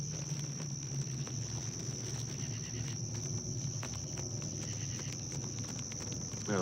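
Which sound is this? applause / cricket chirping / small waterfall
cricket chirping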